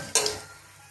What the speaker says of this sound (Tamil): ஸ்பைசஸ் ஆட் பண்ணிக்கலாம் கூடவே எடுத்து வச்சுருக்க பெருஞ்சீரகத்தூள் ரெண்டுத்தையும் ஆட் பண்ணி நல்லா கிளறி விட்டுக்கலாம்